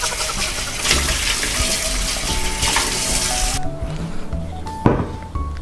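Water runs from a kitchen tap to fill a pot for ramen stew, a steady broadband rush with clatter and shifting tone, cutting out near the end before a brief knock.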